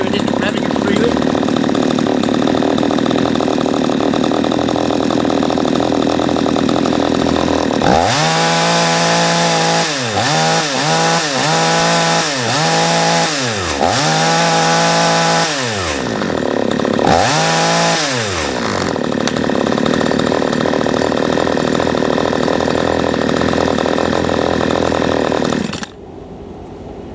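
A P1PE P6220C chainsaw engine drones at high speed during carburettor adjustment, then drops and revs up in several short bursts before settling back into a loud, steady whine.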